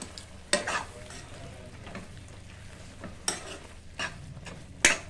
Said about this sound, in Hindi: ऐसे मिक्स करते रहेंगे, ऐसे हमें छोड़ना नहीं है, नहीं तो तले में लग जाएगी। ऐसे चलाते रहना है।